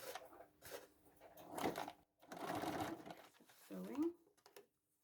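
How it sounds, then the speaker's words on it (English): A sewing machine stitches elastic onto the inside of a medium fabric bowl cover in a few short mechanical bursts, with a person talking over much of it. "I am sewing the elastic on the inside."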